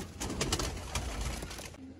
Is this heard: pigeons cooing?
yes